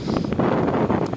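Wind blowing in a nature setting, a loud, steady rushing roar buffeting the microphone, continuous with no voices.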